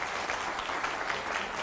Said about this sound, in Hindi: पहले जोरदार तालियां हो जाए।